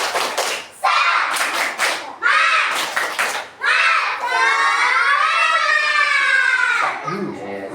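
A girls' group of children in a prayer room performs a rhythmic spirit clapping chant, bursts of loud unison claps alternating with energetic shouted chanting voices, close and lively.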